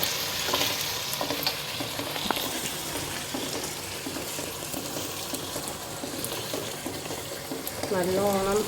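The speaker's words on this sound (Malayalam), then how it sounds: "നല്ലോണം വെന്തിട്ടുണ്ട് സവാള" Sliced onions sizzle in hot oil for a chicken curry while a spoon stirs and scrapes the pan at a steady pace, with a continuous close crackle and a brief louder burst near the end.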